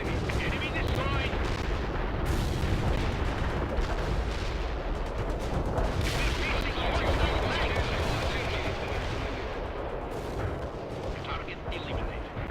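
Mi-24 helicopter attack run in World in Conflict, dense rattling gunfire and artillery-like booms rolling continuously throughout, loud and busy, with radio voice chatter layered over the battle noise.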